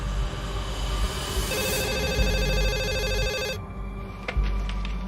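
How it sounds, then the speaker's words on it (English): A telephone rings loudly in repeated electronic bursts over a low steady background hum, then cuts off near the end, followed by a few faint clicks. "And the phone rung, and I answered."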